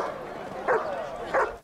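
Two short dog barks, about half a second apart, over steady background chatter and noise.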